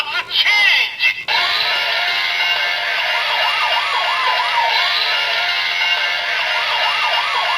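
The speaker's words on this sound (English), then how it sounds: "we get the same Patranger transformation sound" A DX Trigger Machine toy for Patranger plays its transformation sound, a loud electronic police-style siren wailing in repeated rising and falling sweeps after a brief burst of toy voice and effects at the start.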